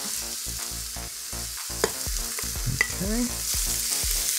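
Thin-sliced beef sizzles steadily in a pressure cooker pot while being stirred, with scraping clinks and a brief spoken word over the frying hiss.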